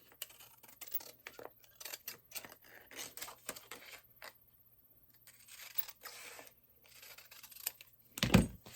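Scissors cutting material for a DIY vintage silver tinsel tree, a run of quiet crisp snips and crinkling rustles in irregular bursts, close by, ending with a louder handling thump.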